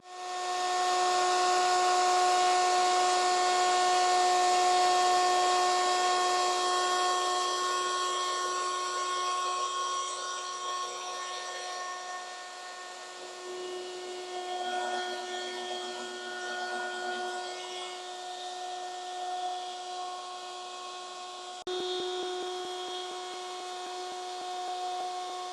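A wood planer makes a slow final pass along the grain of a board, giving a continuous, close, high motor whine with a steady pitch that carries on for about twenty-five seconds, softening slightly partway through.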